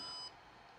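A single short electronic beep from Walksnail FPV goggles as they shut down or reboot, close and clear, then cutting off into a faint steady hum.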